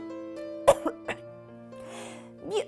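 A person coughs several times in short bursts, close and fairly loud, with a brief throat-clearing sound near the end, over a quiet background with a faint steady tone.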